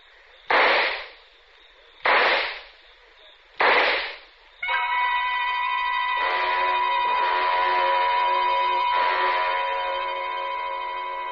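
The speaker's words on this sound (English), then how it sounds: "took out the gun, aimed very carefully at a spot just in the center of his left shoulder blade, and pulled the trigger 4 times" Pistol shots in a radio drama: three loud, sharp bangs spaced about 1.5 seconds apart, then a sustained ringing, tonal sound that holds steady to the end.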